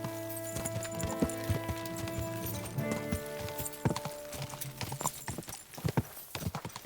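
Horse hooves clip-clopping in a rapid, rhythmic gallop in Kingdom Come Deliverance 2, loud and close over a low musical drone.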